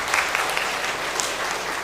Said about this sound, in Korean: 우리 박수로 한번 격려하시죠